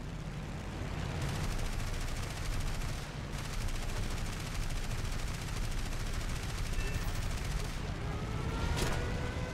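Rapid machine-gun fire in the War Thunder combat game rattles continuously in dense bursts with brief gaps, steady and moderately loud across the whole stretch.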